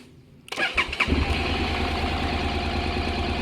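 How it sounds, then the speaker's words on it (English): Honda NC750X DCT motorcycle engine cranks with a few sharp catches, fires, and settles into a steady, close, loud idle rumble. "When you start a bike,"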